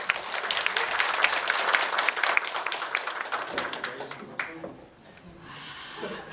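An audience at an ecological village anniversary forum claps together, dense loud applause that thins out and fades after a few seconds, with faint murmurs at the end.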